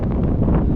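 Strong wind buffets the microphone on an open ridge in the Edale Kinder hills, a loud, continuous rumbling roar with no pauses.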